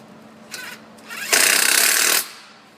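A power tool tightens a 10mm bolt on a Ford Fusion during a transmission axle seal repair, giving a short buzz then a louder, rapid ratcheting burst lasting under a second, close to the microphone.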